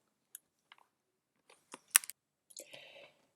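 Sparse computer keyboard keystrokes and a few clicks while a layer is named in photo-editing software, close and quiet, in short irregular bursts with no talk.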